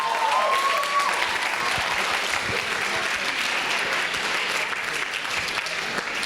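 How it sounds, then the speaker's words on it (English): At a university sports awards ceremony, an evening audience gives sustained applause to the sports volunteers, a steady, full roar of clapping throughout with a brief whistle near the start. "So a round of applause for all the sports volunteers that are in the house tonight."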